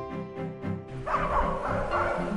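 A dog in the French village of Feuquières barks several times in quick succession, close and loud, then gives higher yipping, whimpering cries.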